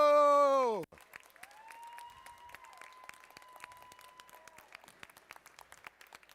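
Crowd applause at a FIRST Chesapeake robotics district event in Pasadena, Maryland, for Impact Award winners Team 5338 Robo Loco. A loud sustained tone opens, then steady, dense clapping fills the hall with a faint tone running over it.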